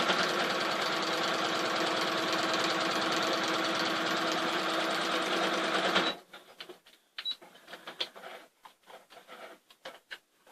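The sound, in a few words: sewing machine stitching quilt layers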